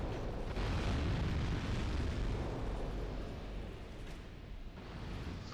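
Explosive barrel enemies blow up in Dark Souls II, a loud, sustained rumbling blast that swells early, then slowly fades with a brief renewed burst near the end.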